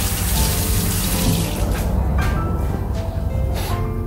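Tap water runs steadily and loudly over fresh garden rosemary as it is rinsed at a sink for a cannelloni dish, a continuous gushing splash with no speech over it.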